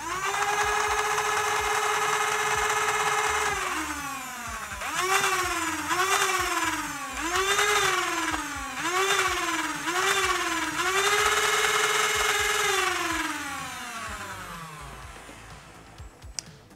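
Modified Nerf Zombiestrike Demolisher blaster, rebuilt for full-auto fire, spinning up its flywheels with a rising whine, then rattling through several quick bursts of darts in rhythmic surges before winding down, loud and close with no talking.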